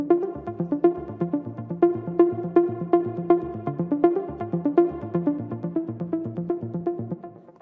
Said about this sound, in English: This sound is actually an Ableton stock sound, and it's called Saw Pure Muted Bass